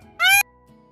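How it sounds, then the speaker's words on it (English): A peacock lets out a single short, piercing, cat-like wail, loud and close, then falls silent. "peacock,"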